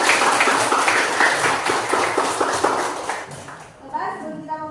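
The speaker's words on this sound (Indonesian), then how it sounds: "tepuk tangan." A class of students claps together in an economics lesson, a close rhythmic patter of many hands that thins out near the end as voices begin talking.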